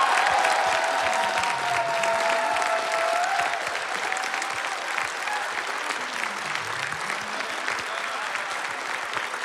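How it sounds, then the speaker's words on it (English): Sustained audience applause and cheering for a Super Metroid Reverse Boss Order speedrun at a live charity marathon event, a dense wash of clapping that holds steady for several seconds with a faint tone underneath. "can we please get a round of applause one more time for ShinyZeni for his run of Super Metroid"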